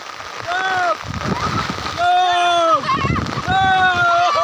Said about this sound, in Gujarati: અહીંયા નાડા ગામમાં ધોધમાર વરસાદ પડી રહ્યો છે